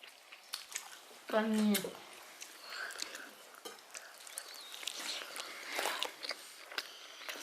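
A child chews steamed glutinous rice siu mai at home, giving brief soft, sticky mouth sounds close by, with adults talking quietly around the eating.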